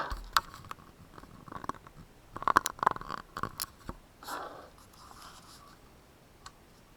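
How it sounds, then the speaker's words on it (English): A pen scratches out notes on paper in quiet, irregular bursts of short strokes, close and soft, with some louder taps in the middle and no talking. "I'm just going to write capital HG when I'm making notes"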